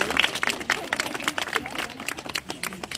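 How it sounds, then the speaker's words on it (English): An audience at a primary school ribbon-cutting for a sensory den breaks into steady, dense applause, many hands clapping close by at once for a few seconds. "can we give her a big, big clap"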